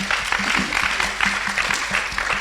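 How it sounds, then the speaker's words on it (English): Audience clapping for the judges at a competition, a steady wash of applause with some rhythmic, near claps mixed in. "Big round of applause for the judges, please."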